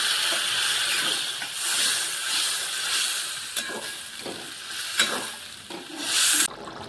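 Water poured into a hot pan of egg and potato curry sets off a steady steamy hiss and bubbling, moderately loud and close, with a few stirring knocks near the end.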